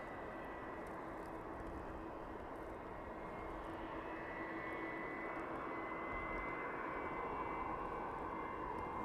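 An airliner taxis toward runway 27 at East Midlands Airport in the evening. A steady, moderately distant jet engine whine holds for several seconds with a broad rushing roar and no break.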